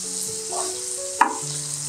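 Onion and garlic fry with salt in a pan, giving a steady close sizzle, while a utensil stirs them and lands a single sharp clink near the middle.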